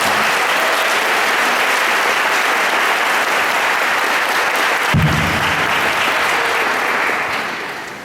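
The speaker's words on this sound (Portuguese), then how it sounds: "Vamos aplaudir a palavra." A congregation at a religious retreat applauds loudly and steadily, a thick sustained wall of clapping that tapers off near the end.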